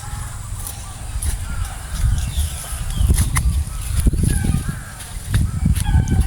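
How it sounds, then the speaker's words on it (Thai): A rooster crows in the distance in a vegetable garden, amid rustling and low rumbling background noise, with no one speaking. "เสียงนก เสียงกายังไม่พอมีเสียงไก่ด้วย"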